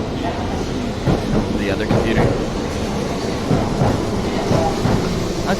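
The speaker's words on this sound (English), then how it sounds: "I thought this train would go the other way." Train at a station platform in Osaka, a steady rumble and rolling hiss throughout with brief squeals and clatter, close and continuous while a person speaks briefly over it.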